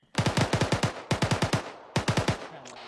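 Machine gun fire in a military video game: three sharp, loud bursts of rapid automatic shots, each a quick run of about five or six rounds, separated by brief pauses, with a faint echoing tail after the last burst.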